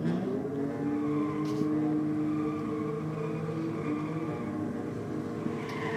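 A Mazda MPS race car launches at a drag race, a steady droning engine roar that holds at an even level throughout, heard from a distance.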